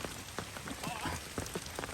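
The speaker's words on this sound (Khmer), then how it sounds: "ក៏មេឃភ្លៀងចេះ" Rain falls steadily on a forest, a dense patter of drops hitting leaves and ground close by, with scattered louder splashes throughout and no talking.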